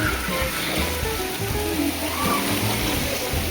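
Water waves splashing and churning in a resort wave pool, a continuous loud rushing wash with low rumbling surges throughout.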